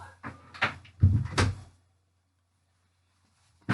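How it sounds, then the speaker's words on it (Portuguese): A door is pushed shut indoors, a cluster of thumps and knocks within about a second and a half, followed by near silence and one last brief click. "Fechei a porta para não fazer barulho"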